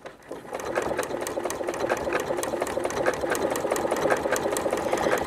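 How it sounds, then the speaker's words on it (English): A sewing machine stitches quilt binding with an applique stitch, its rapid even needle clatter running continuously at close range after a brief start, with no voices. "I'm going to drop the needle right outside, and it's just going to take 3 little stitches and a tiny little bite out of my binding."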